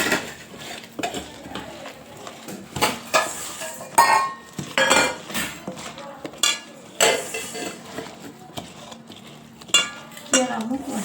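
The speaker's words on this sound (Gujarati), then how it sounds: "ચટણી ઉમેરી દઈએ કરી દઈએ મિક્સ" Raw mango pickle is mixed with chutney and a little oil, producing close, busy spoon-on-bowl clinks and wet stirring scrapes in irregular bursts, with a voice now and then.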